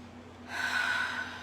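A single deep inhaled breath, close and airy, rising suddenly and holding steady for about a second with no talking over it.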